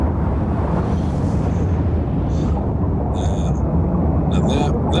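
The Aurora spaceship explodes in the video game Subnautica, a loud sustained roaring rumble that fills the whole stretch, with high electronic beeps and tones cutting in over it.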